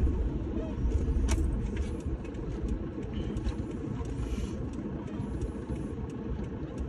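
Steady road traffic rumbles along a busy rural road in the Buug–Tampilisan area of Zamboanga, with vehicles passing continuously at close to moderate distance, a dense low engine drone with occasional clinks, and no talk.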